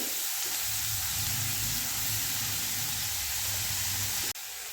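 Onion and chopped cabbage frying in a pan for gobi paratha filling, a loud, dense, continuous hiss that cuts off abruptly near the end.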